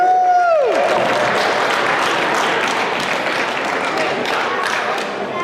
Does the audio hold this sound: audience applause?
yes